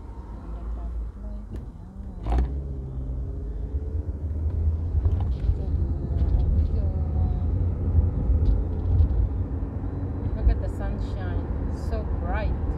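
Inside a car cruising on a UK road toward the seaside on a windy summer day, a steady low engine and road rumble fills the cabin, with a bump early on and a voice speaking over the drone.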